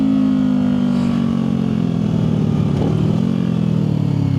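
A Harley-Davidson motorcycle rumbles close behind with a steady, loud low engine drone that holds throughout, no talking over it.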